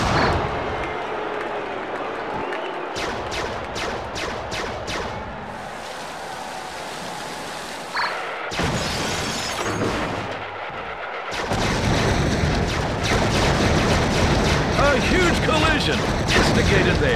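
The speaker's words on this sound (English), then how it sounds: "Stacy Keebler scattering shots in all directions" Vehicle weapons firing from a wrestler's car in the video game WWE Crush Hour, rattling shots scattered across a noisy arena mix with crowd-like wash and a commentator talking over it.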